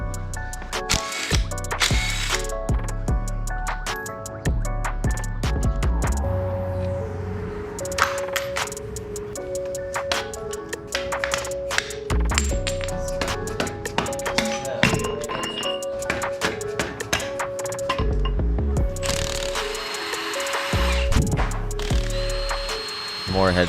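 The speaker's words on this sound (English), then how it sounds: "Now we're pulling out our head studs. Those are usually 12-point bolts." Ratchet and special 12-point socket loosening head studs on a Subaru engine being torn down for a 22B STi build, with repeated clicking bursts and metallic taps up close amid music-like tonal background and workshop noise.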